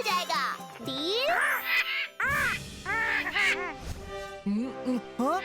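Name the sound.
voice imitating crow cawing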